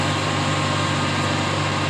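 Steady, droning farm tractor engine running while mowing hay, loud and close with a constant hum and no talking over it.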